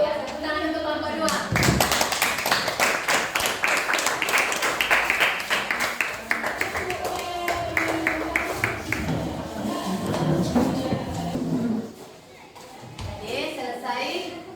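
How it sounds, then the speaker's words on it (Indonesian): A classroom of students claps for the second group after its presentation in a school lesson, loud rhythmic clapping near by with children's voices mixed in, then it fades and a teacher speaks. "tepuk tangan untuk kelompok 2"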